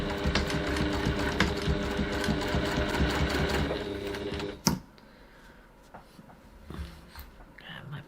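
A sewing machine stitches a bag's body lining at a 2.4 stitch length in a fast, steady mechanical whir for about four and a half seconds, then stops with a click, followed by quiet handling, with a voice speaking.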